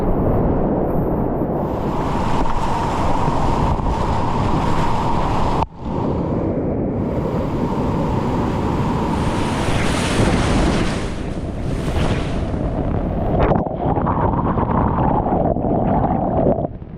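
Rough, boiling river water surging around a boat on an adventurous Madagascar river run, a loud continuous roaring wash with heavy wind noise, a brief dropout partway, and no clear talk.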